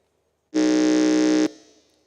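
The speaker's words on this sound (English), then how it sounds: "we'll test the buzzers." A quiz contestant's buzzer sounds once during a test at a junior science and maths quiz, a loud, steady electronic tone lasting about a second that stops abruptly and leaves a short fading ring.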